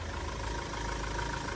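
A motorbike engine idles quietly at steady low revs, a faint continuous low hum and putter with no talking.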